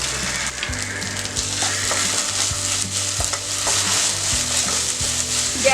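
Egg schezwan rice being stir-fried with schezwan and red chili sauces in a pan, a loud steady sizzle with frequent quick spatula scrapes and knocks in an uneven rhythm, close up and without speech.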